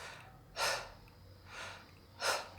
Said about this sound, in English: you can do what they call 2 flushes, where you just take 2 normal breaths in and out